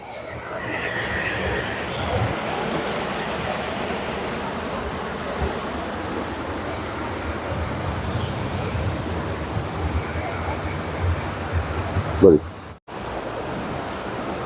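Steady, loud rushing water roars through a broken check dam on the Machchhu, a broad continuous wash of noise with a brief thump near the end.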